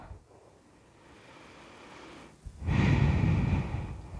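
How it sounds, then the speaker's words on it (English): Slow yoga breathing during a gentle back stretch: a soft, quiet inhale, a pause, then a loud, close, airy exhale that carries to the end. "taking an inhale. And then exhale"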